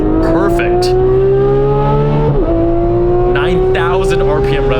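A 2018 Porsche 911 GT3 (991.2) with PDK gearbox on a track, its engine revving loud and close, rising in pitch through a gear and then dropping sharply at a quick shift before climbing again.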